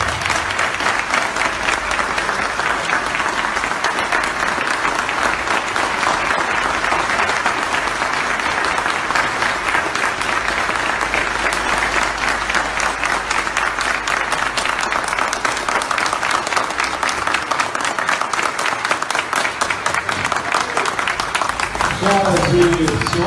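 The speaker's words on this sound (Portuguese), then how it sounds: "peço mais uma calorosa salva de palmas como forma de" Sustained audience applause after a lecture, dense steady clapping from a large crowd filling the whole stretch, loud and continuous with a few voices mixed in near the end.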